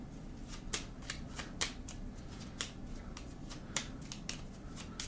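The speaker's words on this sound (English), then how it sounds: "Let's give these a shuffle." Cards being shuffled for the board game Kepler 3042, a steady riffling texture punctuated by several sharp snapping bursts as the deck is bridged, fairly quiet and close with no talk.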